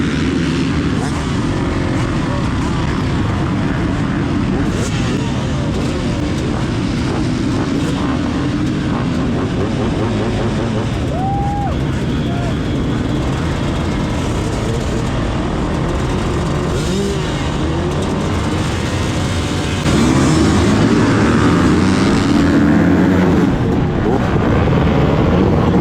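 A pack of about 27 450cc motocross dirt bikes in an amateur race's opening moto roars off the gate drop, engines loud and close in a dense droning wall of revving that swells near the end.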